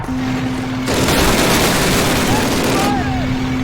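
Sustained burst of automatic gunfire in Call of Duty, loud and dense for about two seconds, with lighter game ambience and a steady hum before and after.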